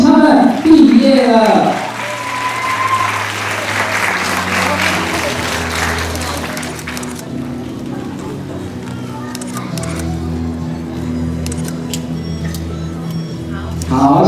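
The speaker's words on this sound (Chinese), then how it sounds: "给我们掌声鼓励，恭喜他们毕业" Applause at a kindergarten graduation ceremony, a burst of clapping from the crowd that fades into lighter scattered claps under background music and a voice over a loudspeaker.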